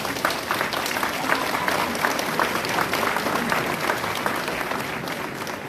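A crowd at a mayor's New Year address claps for local sports champions, producing loud, sustained applause with a thick, even wash of hand claps throughout.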